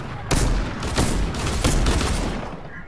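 Loud rapid gunfire in Fortnite, several bursts of closely spaced shots with short gaps between them, sounding near and dominant with little else audible.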